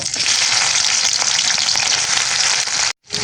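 Onion and green chili hit hot oil for a bitter gourd and shrimp fry, giving a loud, dense, continuous sizzle close by that cuts off abruptly near the end, with no voices.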